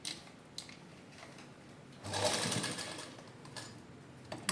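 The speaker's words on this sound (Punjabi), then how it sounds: "ਇਸ ਤਰ੍ਹਾਂ ਆਪਾਂ ਸਲਾਈ ਲਾ ਲੈਣੀ ਹੈ" A sewing machine stitching a suit runs quietly and steadily at close range, with a louder burst of whirring in the middle and a few faint clicks. No one speaks.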